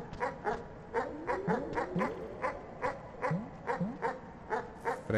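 Rapid repeated barks from a dog in the video game Animal Well, about a dozen sharp yelps in an uneven rhythm, fairly faint and sounding alone.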